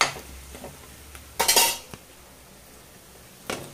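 Rice goes into a pan with garlic-chili masala and gets stirred. A spoon scrapes and knocks against the metal in a few separate bursts, with a louder clatter in the middle and quieter gaps between.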